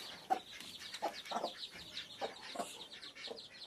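Chickens cluck close by in a series of short, separate calls spread across a quiet background, moderately loud with no people talking.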